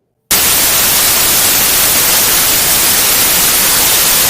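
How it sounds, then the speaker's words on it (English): Steady, loud hiss of broadband white noise starting abruptly after a brief silence and holding constant throughout. "This is just a white noise, folks."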